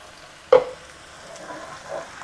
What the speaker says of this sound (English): In goes a tomato ginger garlic puree.